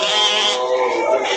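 A goat in a crowded livestock pen gives a brief, loud, wavering bleat close by.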